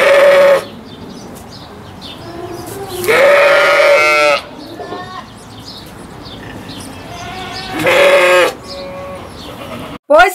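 Sheep bleat loudly three times, each a wavering drawn-out call, separated by quieter stretches of faint background noise.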